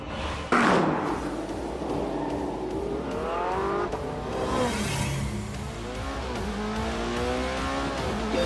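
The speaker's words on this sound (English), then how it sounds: "the McLaren and the Porsche were ready for some shakedown laps" A McLaren and a Porsche on shakedown laps: a loud slam-like hit, then engines rev up through rising gear changes and pass by with tire noise, close and dominant throughout.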